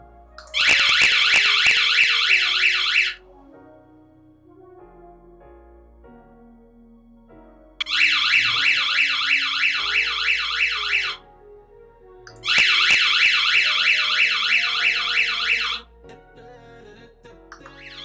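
A loud electronic alarm siren from a wireless beacon light alarm wails in three bursts of about three seconds each, separated by quiet pauses, with a rapid warbling pulse.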